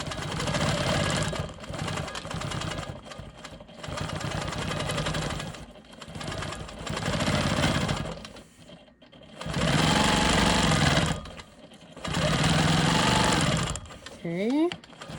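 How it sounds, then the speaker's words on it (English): Sewing machine quilting lines on a rolling stone quilt block, its steady stitching hum running in several long bursts with brief pauses between, close and fairly loud. "I'm going to quilt back over here and finish this line up"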